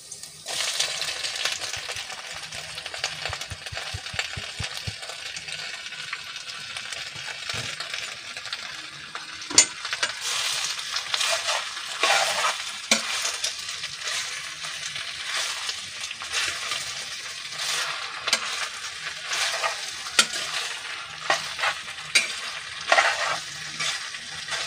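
Yucca flowers fry with onion in a pan, giving a constant loud sizzle broken by scraping and clinking stirs throughout; no one speaks.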